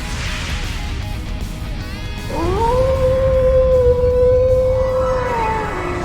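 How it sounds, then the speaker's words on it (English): A wolf howl from the video game Trails into Reverie rises suddenly, a loud sustained tonal cry with a harmonic layer that holds steady for several seconds before bending downward, over a rumbling game background. "Did that howl cancel out the artifact's power?"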